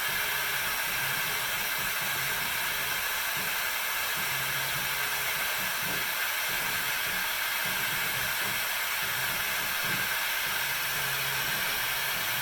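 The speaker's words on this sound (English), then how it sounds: "I have an air assist valve that turns the air on whenever the G-code file starts, which helps blow the smoke away" An air assist blows a steady, even hiss during 15W laser engraving on an Avid Pro CNC, with a faint low hum from the machine underneath.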